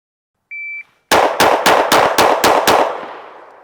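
A short electronic timer beep comes first, then seven rapid, sharp gunshots from a PSA Dagger Micro pistol fire in an even rhythm, loud and close, with a brief ringing decay after the last shot.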